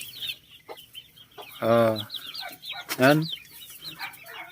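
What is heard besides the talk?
Rhode Island Red cross native chickens clucking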